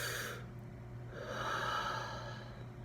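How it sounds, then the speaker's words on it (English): One person taking a deep breath: a slow inhale followed by a soft, airy exhale, close and fairly quiet, with no talking. "take a deep breath,"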